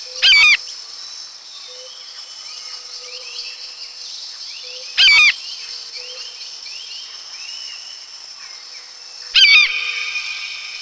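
A zoo eagle gives three loud, shrill calls spaced several seconds apart, each a sharp burst over a steady background of insect-like buzzing and other bird chatter.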